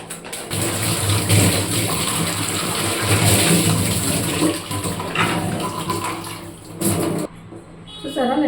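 Small spice containers washed under a running kitchen tap, a loud continuous gush of water that stops abruptly near the end, with brief faint clinks afterward.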